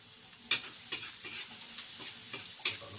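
Onion and tomato sauté in a pan for a chicken vegetable soup, a quiet sizzle broken by several sharp scrapes and clicks of a spatula stirring, close by with no talking.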